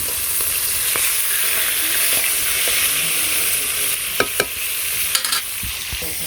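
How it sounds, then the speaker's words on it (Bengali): Fish frying in a pan in a Bangladeshi village kitchen, a loud steady hiss of hot oil sizzling throughout, with a few sharp crackles and pops near the end. "মাছগুলো ভাজি হইতে"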